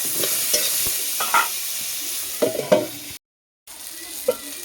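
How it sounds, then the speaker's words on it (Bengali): Pointed gourd fries in oil, and the sizzle is broken by repeated scraping and stirring strokes against the pan. A brief silent gap falls in the middle. No voices are heard. "আমি কি সুন্দর পটলগুলো ভেজে নিয়েছি"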